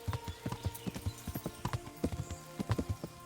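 Steady clip-clop of horse hooves at a walking pace, close and fairly quiet, with a regular rhythmic beat and no talking, in the video game Kingdom Come: Deliverance.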